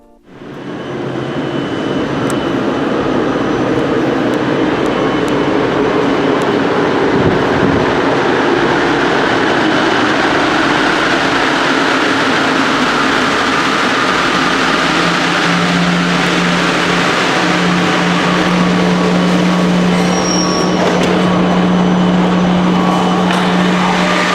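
Inside a moving metro train, a continuous loud rumble and roar of wheels on rails fills the car, with a steady low drone rising in the second half and a brief high squeal near the end.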